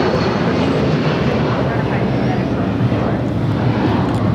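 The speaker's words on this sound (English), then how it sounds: "This is United Airlines 1224 taking off to Honolulu on the 757-300." A United Airlines Boeing 757-300 jet takes off from LAX, a loud, steady broadband engine roar filling the whole clip with no break in intensity.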